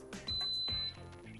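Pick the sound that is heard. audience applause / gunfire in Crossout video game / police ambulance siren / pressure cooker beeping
pressure cooker beeping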